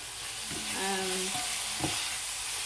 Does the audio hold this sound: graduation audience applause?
no